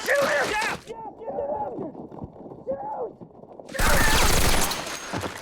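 Gunfire from a battle scene in the TV series The Pacific: a dense, loud fusillade erupts at the start, gives way to shouting voices, then a second sustained burst of heavy firing follows.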